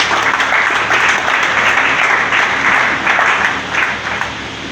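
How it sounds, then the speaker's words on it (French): An arena audience applauds musicians and dancers at a charity show, loud sustained clapping from a large crowd that swells and then slowly thins toward the end. "Est-ce que nous pouvons les acclamer, s'il vous plaît?"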